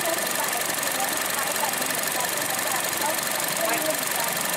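A 2012 Honda Jazz engine idles steadily after a start, with a continuous mid-pitched hum and slight knocking vibration that stays even throughout, no voices audible.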